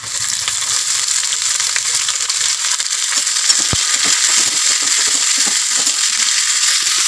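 Chopped onions fry with curry leaves, cinnamon, ginger and garlic in a pan, giving a steady, close hiss of sizzling oil with a faint clink partway through and no talking.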